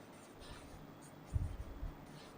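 Writing on a board during a Hindi physics lesson on density inside the earth: a short, faint scratch of strokes under quiet room tone, with no speech.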